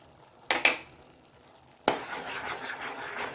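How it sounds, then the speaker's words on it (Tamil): Dragon fruit halwa with cucumber seeds is stirred in a pan, with a few sharp scraping clacks of the spoon against the pan over a soft steady sizzle. "இப்போ எல்லாம் ஒன்றா மிக்ஸ் பண்ணலாம்"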